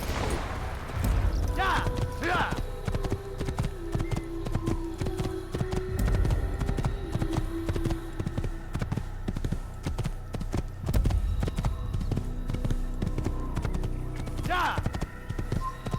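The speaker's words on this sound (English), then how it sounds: "Well, I'm on a horse." Hooves pound steadily in a rapid clip-clop as a horse gallops in the Assassin's Creed video game, close and continuous under in-game music and ambience, with brief voice-like calls scattered through.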